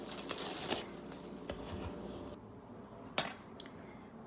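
Metal measuring spoons, a tablespoon and a teaspoon, clinking while lemon cookies are made, light scattered clinks and rattles close by with one sharper clink, no talking.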